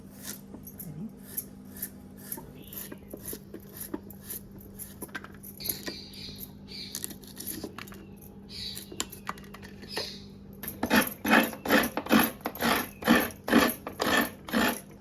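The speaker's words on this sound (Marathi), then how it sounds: "हे कांदे कट करते." A knife chops peeled onions on a board in a home kitchen, starting as scattered light taps and building into a steady run of loud, rhythmic close-up chops near the end.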